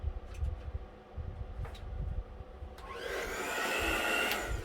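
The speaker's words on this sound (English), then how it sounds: "This is our more powerful blower, so the lowest setting." A powerful air blower on its lowest setting, used during an acrylic Dutch pour on a hand-cut MDF cross, switches on partway through and then holds a steady, close whooshing rush of air over low background rumble.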